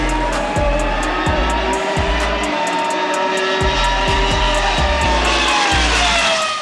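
1966 Ferrari 330 P3 412P race car engine howling loud and close with rising and falling revs, punctuated by repeated sharp low thumps from gear changes or backfires.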